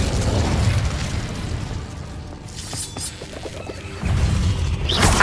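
Incendio fire spell bursting in a cave in Hogwarts Legacy: a fiery blast with crackling, popping debris, then quieter mechanical clatter before a second loud whooshing burst near the end.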